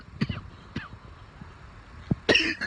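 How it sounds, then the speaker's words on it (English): Several people coughing out on a street in Qinhuangdao, China, amid burning-smelling air: a few sharp separate coughs spread out, then a louder harsher burst near the end, with faint street background between. "There are people all over the street coughing and coughing."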